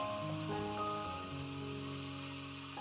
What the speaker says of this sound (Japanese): ごま油で炒めるのがけんちん汁の特徴です